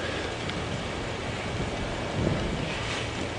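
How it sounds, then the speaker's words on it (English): Wind buffeting an open safari vehicle at Djuma Game Reserve in the early morning, a steady broadband roar of gusts and microphone rumble with no break. "Quite windy, which will suit them as well."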